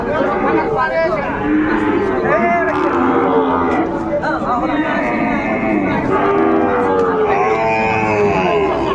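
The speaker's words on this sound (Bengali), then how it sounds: "বেশ সুন্দর একটি গরু দেখাশোনা চলছে" Cattle at a busy livestock market where Shahiwal bull calves from Pabna are traded moo repeatedly, loud and close. Crowd chatter and people talking run underneath throughout.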